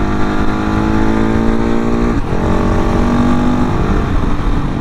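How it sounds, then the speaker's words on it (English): A KTM 690 SMC motorcycle engine drones loudly and close, its pitch shifting downward as it engine-brakes hard, with steady wind and road noise throughout. "it really engine brakes on this thing"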